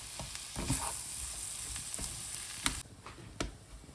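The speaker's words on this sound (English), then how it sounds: "just break them up with your spoon and just keep on mixing" A spoon stirs and breaks up a sizzling potato mixture in a pan over low gas heat, giving a steady close frying hiss with irregular scrapes and light knocks of the spoon.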